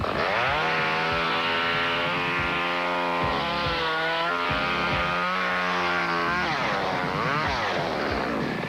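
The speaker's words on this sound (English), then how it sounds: "juggle this chainsaw while it runs at full speed" A chainsaw engine screams at full throttle nearly the whole time while being juggled, loud and close, its pitch wavering slightly as it's moved about.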